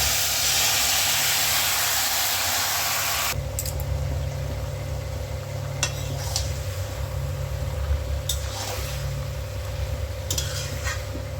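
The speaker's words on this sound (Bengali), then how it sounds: "এইবার আমি মাখিয়ে রাখা চিকেনটা দিয়ে দিচ্ছি।" Marinated chicken goes into a hot pan with a loud, broad hiss that fades to a lower, continuous sizzle broken by a few sharp clatters of the utensil, with no voices.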